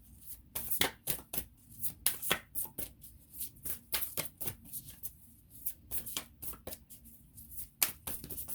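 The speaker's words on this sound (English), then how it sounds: "let's pull in a card from the Sufi deck" Cards from a Sufi oracle deck are shuffled in a rapid series of crisp riffling flicks and slaps, fairly close and quiet, with no voice over them.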